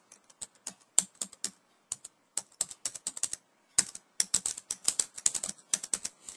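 Computer keyboard typing as server details are entered for a SQL Server database setup, quick irregular clusters of crisp, close key clicks with short pauses, no talking.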